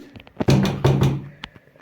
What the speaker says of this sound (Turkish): Bir şey sormak için kapınızı çalmıştım mı?